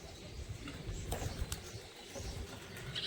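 Pigeons in a coop, giving soft, low cooing close by with a few brief chirps and rustles, fairly faint over a muffled background.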